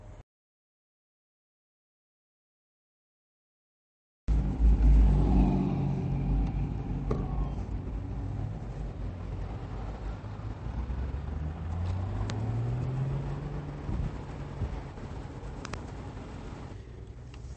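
Chrysler Crossfire driving around the block, starting after a few seconds of silence, then steady engine rumble and road noise from inside the car with a slow rising tone as it accelerates.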